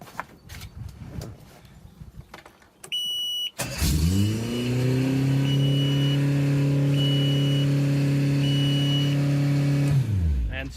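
A Mercury Cruiser marine engine with a slow-cranking starter cranks briefly, then catches and settles into a steady, loud idle that runs for several seconds before cutting off, with some handling noise beforehand.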